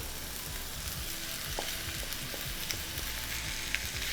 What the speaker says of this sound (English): you just want to lightly saute the onions, not to get too brown